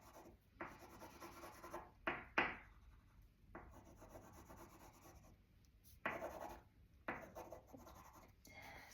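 Pencil shading on paper, soft scratchy strokes rubbing back and forth in uneven bursts with brief pauses, close and quiet, no voices.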